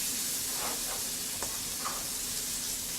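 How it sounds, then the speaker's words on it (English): Constant bright sizzling hiss of butter frying in a hot wok, steady and close, with a few faint clicks and pops. "We're going to put that in a wok like that. Let it start sizzling."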